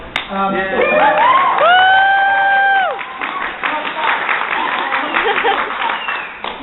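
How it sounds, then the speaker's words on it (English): A crowd at a Carl Sagan Day event applauds and cheers. Whistles and shouts sit over continuous clapping that runs loud through the whole stretch, and voices mingle in the crowd. "Thank you for that thunderous round of applause."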